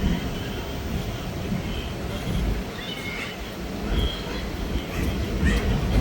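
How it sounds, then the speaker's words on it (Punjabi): A Kalka-Ambala Cantt passenger train pulling out of Ghaggar station, a continuous low rumble and rolling clatter of the coaches, with faint squeals above; a voice speaks faintly at times. "ਘੱਗਰ ਰੇਲਵੇ ਸਟੇਸ਼ਨ ਤੋਂ ਆਪਣੀ ਟ੍ਰੇਨ ਚੱਲ ਪਈ ਹੈ"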